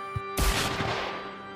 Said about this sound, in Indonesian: Ledakan keras menggema di seluruh parkiran bawah tanah.